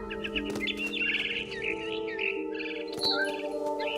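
Barn swallow chirps and twitters in the video game What Remains of Edith Finch, a run of quick bright calls over a steady tonal background hum, close and fairly loud with a sharper burst near the end.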